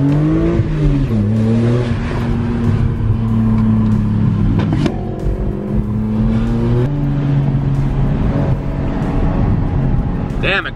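A new Lamborghini Urus engine drones loudly and steadily from inside the cabin while driving, its pitch shifting as the car changes speed, with voices partly heard over it.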